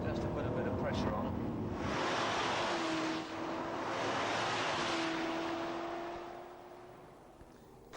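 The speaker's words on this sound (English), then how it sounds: "Accelerate firmly away." A 1984 Metropolitan Police training car at the Hendon driving school accelerating hard along a road, its engine note rising and surging then easing off, heard from inside the car under a continuous rush of road and wind noise.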